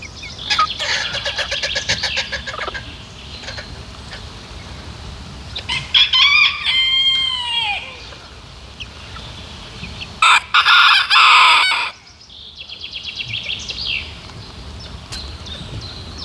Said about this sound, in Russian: Одни петушки.